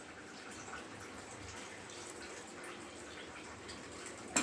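Water poured into freshly ground poppy seed paste to rinse it out during cooking, a soft, steady trickle that is faint and continuous, with no talking.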